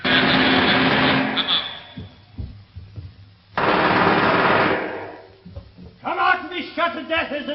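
Bursts of rapid gunfire ring out in a 1950s British television science-fiction serial, two long sustained volleys separated by a short lull, followed by a voice speaking.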